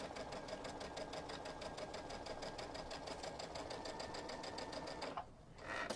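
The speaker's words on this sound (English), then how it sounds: "I'm just going to stitch all the way around." A sewing machine stitches around a minky fabric Christmas stocking in a steady, fast, rhythmic run of close, loud stitching that stops abruptly near the end.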